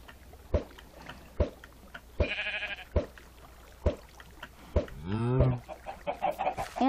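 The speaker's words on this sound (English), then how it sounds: "let's get a few chickens" Chickens in Minecraft (FTB Lite modpack) clucking in short, separate bursts, several distinct clucks spaced over a few seconds, fairly close and alone with no talk over them.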